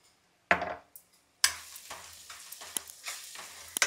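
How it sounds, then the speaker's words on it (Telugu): Onions frying with turmeric and chili powder in a pan, stirred with a utensil; a sharp scrape and sizzle burst, then a continuous close sizzle broken by repeated stirring clicks and scrapes. "ఆనియన్స్ బాగా వేగిపోయినాయి కదా."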